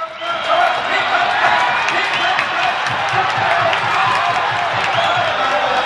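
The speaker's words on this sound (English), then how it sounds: "Got the crowd excited." A large crowd cheers loudly and without a break at a 2012 junior world championship women's track cycling sprint. The roar is dense and continuous, with whoops and clapping mixed in.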